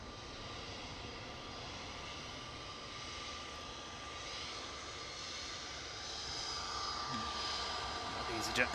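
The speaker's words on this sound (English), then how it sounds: "EasyJet coming towards us, let's have a look." An EasyJet jet airliner approaches at Manchester Airport, its engines a steady distant roar that slowly grows louder toward the end.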